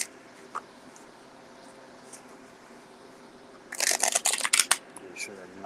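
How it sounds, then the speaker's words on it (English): A deck of Gilded Tarot Royale cards is riffled and shuffled up close in a quiet room, a quick burst of crisp, rapid flutters and snaps lasting about a second and a half after faint background noise. "Make sure they're nice and shuffled here."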